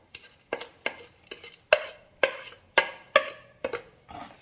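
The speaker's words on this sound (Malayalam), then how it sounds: "ഇനി സവാളയും കൂടെ കൂടി മിക്സ് ചെയ്യാം." A spoon stirs fried onion through rava upma premix in a pan off the heat, nine crisp scraping, rattling strokes at an even, unhurried rhythm, close and alone.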